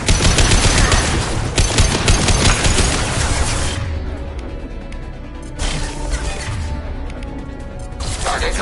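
Turret gunfire in the video game Mass Effect 2: a loud, dense, sustained stream of rapid automatic fire that drops off partway through and then returns in further bursts.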